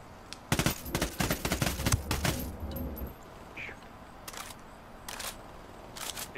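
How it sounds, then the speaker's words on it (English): Bursts of rapid gunfire in the Ghost Recon Wildlands video game, a loud dense volley for the first few seconds, then scattered single shots and short bursts, with faint talk in the background. "Shots from the right."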